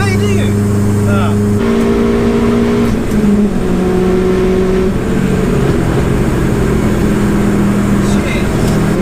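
A fully built 530bhp Subaru WRX pulls hard in fifth gear, its steady engine drone rising under continuous talk from the people inside the car.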